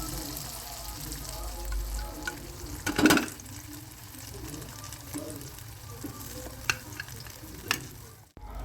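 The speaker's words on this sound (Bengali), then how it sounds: "তেলটা গরম হয়ে গেছে এখন আগে থেকে ফেটিয়ে রাখা ডিমগুলো এর মধ্যে দিয়ে দেবো" Beaten eggs go into hot oil in a pan, giving a steady low sizzle with a louder burst as they hit, then occasional light scrapes and taps of a spatula, close and fairly quiet.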